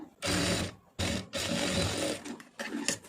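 A sewing machine stitches a cross-cut blouse lining in three short loud bursts of rapid whirring, close by, separated by brief pauses.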